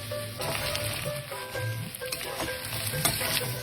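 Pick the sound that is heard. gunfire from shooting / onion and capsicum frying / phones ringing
onion and capsicum frying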